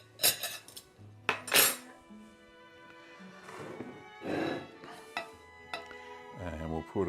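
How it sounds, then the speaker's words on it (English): A plate and metal cutlery are picked up and set down in a kitchen while Handkäse cheese is being served, giving several sharp clinks and clatters in separate bursts, close and fairly quiet, with someone talking in between. "So I'll get my plate."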